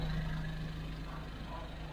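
Engine of a Suzuki Every Wagon running at a steady idle, a low continuous hum, close and moderately quiet, brief and alone.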